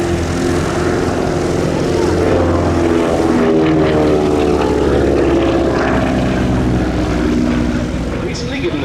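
A WWII propeller night fighter aircraft's piston engine at an airshow in taxiable condition, a loud, steady droning rumble throughout with a continuous layer of talk over it.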